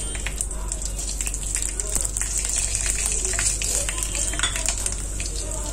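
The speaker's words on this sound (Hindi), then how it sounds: "कढ़ाई में हम डालेंगे आधा कप तेल, इसमें जाएंगे हमारे खड़े मसाले" Whole spices, including black cardamom, green cardamom and black peppercorns, sizzling in half a cup of oil in a kadhai, a steady crackling fry with scattered sharp pops and spatters, close and continuous.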